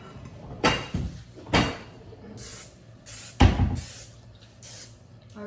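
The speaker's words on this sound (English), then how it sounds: "spray a 9x13 baking pan with cooking spray" Short hissing bursts of cooking spray onto a glass 9x13 baking pan, four or five quick sprays separated by pauses, close and fairly quiet.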